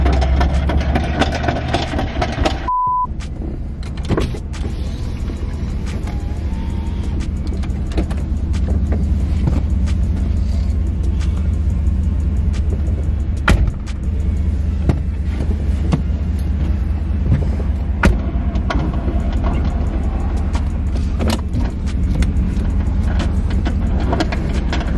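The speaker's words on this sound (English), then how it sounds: "As you guys can hear, it does sound like it's just something grinding." A Pontiac G8 GT with a suspected transmission fault runs with a steady low rumbling drone and a rough grinding undertone, continuous and close for about twenty-five seconds, with scattered clicks and no talk.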